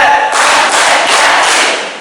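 A seminar audience at a National Teachers' Day event in Indonesia claps together in a rehearsed four-beat pattern, a loud, dense burst of hands that fades out after about a second and a half.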